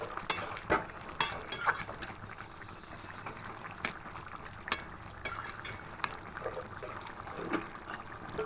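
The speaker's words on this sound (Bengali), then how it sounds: "এবার ভালো করে মিশিয়ে নেব" A pot of mung dal posto with chillies and sugar is stirred while it cooks, giving soft scraping and clinking of a spoon against the pot in repeated strokes over a quiet hiss of cooking.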